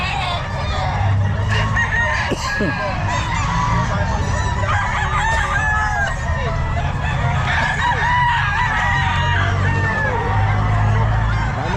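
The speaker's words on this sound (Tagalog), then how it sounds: "daming manok" Many chickens cluck and crow continuously at a pet market in Calumpit, Philippines, a dense noisy flock close by, with honking fowl mixed in and some faint talk underneath.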